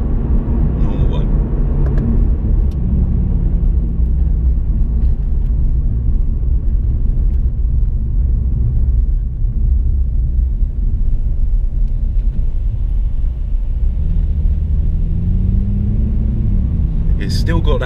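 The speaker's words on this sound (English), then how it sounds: "you can hear that it's a V8 underneath" Mercedes-Benz AMG C63 V8 idling with a steady low throaty rumble that holds unchanged throughout, heard up close from inside or beside the car, with people talking over it.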